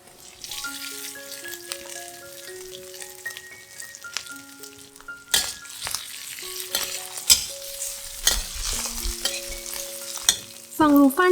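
Vegetarian mock meat stir-fried in a wok after mushrooms, a loud, close sizzle with repeated spatula scrapes and tossing clatter, growing busier toward the end, with no speech.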